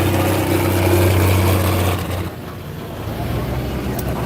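A loud tractor engine rumbles steadily with a low droning hum during a run at an event in Colby, easing off slightly midway and continuing at a lower level.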